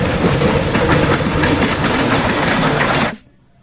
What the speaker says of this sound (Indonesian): Ini adalah kereta lokomotif.